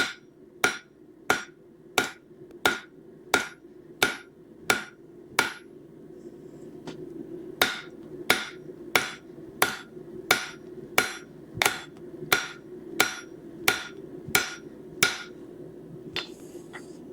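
A hammer forges hot steel on an anvil while scrolling tongs are made, ringing in a steady run of sharp, evenly spaced blows with a brief pause midway, loud and close.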